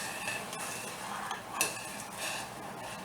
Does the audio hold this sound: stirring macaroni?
yes